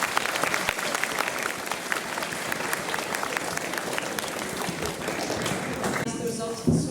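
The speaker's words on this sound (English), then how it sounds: "I'd like this end applause to be dedicated to everyone who worked so hard on last night's" Sustained applause from a school assembly audience honours the theatre cast and crew, dense steady clapping filling the room for several seconds before it thins out at the end.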